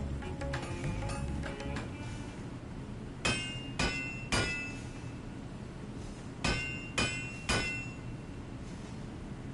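Hammering on an anvil in the Final Fantasy XIV game, two bursts of three loud ringing metallic strikes each, spaced evenly over a soft musical backdrop.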